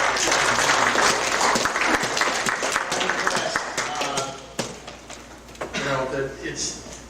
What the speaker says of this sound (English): First, I want you all to give yourselves a round of applause for coming to a beautiful Oklahoma.